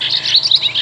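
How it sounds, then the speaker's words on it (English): Audubon bird toy plays a bobolink call, a short burst of bright bubbling chirps, close and clear. "Bobolink."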